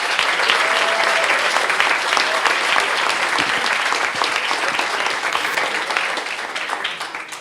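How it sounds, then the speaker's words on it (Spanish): A youth-in-politics forum audience gives strong applause for the Caja Política organizers, a thick continuous wash of clapping that stays loud throughout and eases slightly toward the close. "Y un fuerte aplauso para la organización de Caja Política"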